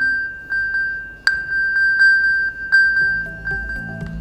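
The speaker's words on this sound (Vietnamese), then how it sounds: "Khi các bạn chọn vào phát âm thanh thì chiếc điện thoại sẽ phát ra một hồi chuông cảnh báo" Lost iPhone sounding an alert tone, a rapid series of bright high pings repeating in an even rhythm, with a low rumbling hum and faint muffled handling sounds entering near the end.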